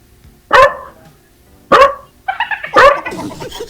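Three sharp dog barks spaced over a few seconds, loud and close, with a brief yip or whimper just before the last one.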